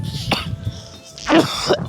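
Two harsh coughs nearby, the first short and the second a louder double burst, with faint background noise between.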